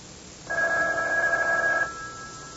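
A telephone rings as a sound effect in a CBS radio mystery drama: one sustained electronic-sounding ring of about a second and a half, clear and close, followed by a quieter lingering tone and no voices.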